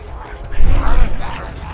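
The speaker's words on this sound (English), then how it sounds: "Please, can you barricade the door to your right side?" Barricading a door in the Contagion video game produces a loud mechanical clatter and thump that swells midway and lingers as scraping and rattling.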